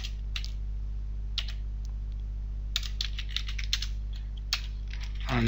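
Typing Java unit test code on a computer keyboard, with rapid clustered key clicks in short bursts separated by pauses, close and clear over a steady low hum, with no talk.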